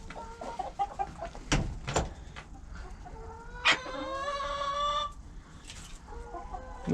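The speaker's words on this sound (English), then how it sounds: "Here's some of our other hens." Backyard hens in a coop, including barred rocks, cluck and squawk in scattered bursts, with a few sharper calls standing out against a quiet background.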